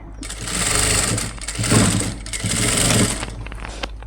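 A sewing machine stitches piping onto the neck of a lined blouse, running in two long, steady whirring bursts with a brief pause between them and a short tail at the end, close and loud, no talk.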